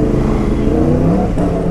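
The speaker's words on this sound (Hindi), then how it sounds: "तो ये हल्की फुल्की बाइक चलाने का बहुत मज़ा आ रहा है भाई" A BMW S1000RR sport motorcycle engine runs loud and close, holding a steady high revving whine with a brief rise in pitch near the end.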